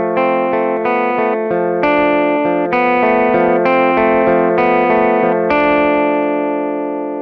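An electric guitar through a compression pedal at its attack setting plays a sequence of clean, sustained notes and chords, each picked attack blooming and ringing on, loud and close with no talking.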